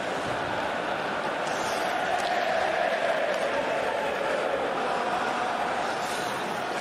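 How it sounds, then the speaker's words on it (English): A hockey arena crowd chants Na Na Hey Hey Goodbye, heard as a steady, distant-sounding roar of many voices that fills the whole stretch, with no individual voice standing out. "I think I hear na na na na, hey hey, goodbye."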